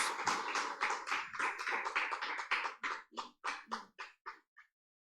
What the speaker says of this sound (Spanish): Dele un fuerte aplauso a Él, por favor.